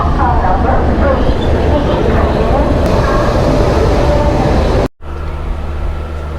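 Sambaleswari Express 18005 running after leaving Jamshedpur: a loud, steady rumble from on board, cut by an abrupt break before it resumes more quietly, with a voice talking.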